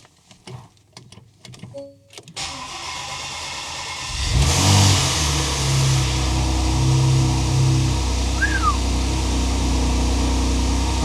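A Porsche Macan, oil drained, cranks over after a few clicks and fiddling, then fires and settles into a loud, steady running rumble with a slightly rattly mechanical edge, close and alone without talk.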